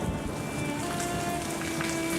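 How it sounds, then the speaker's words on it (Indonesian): Heavy rain pours down steadily, a dense continuous wash of drops striking surfaces, with gusty wind folded into the roar; no voices, just a loud, unbroken downpour. "Namun hujan deras sekali dan anginnya kencang."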